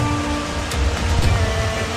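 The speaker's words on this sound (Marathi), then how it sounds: "इथे मस्त वाहत आहे पाणी छान वाटतंय आवाज आहे का आवाज पाण्याचा" Water rushing along a tiny stream near a waterfall at Palasdari, Karjat, a steady broadband wash with slight swells, close and continuous, no voices.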